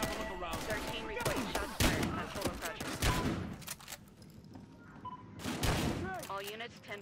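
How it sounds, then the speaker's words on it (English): Rapid bursts of gunfire in the video game Battlefield Hardline crackle in clusters, loud and repeated, with brief pauses between volleys and faint voices and effects mixed in. "Shots fired."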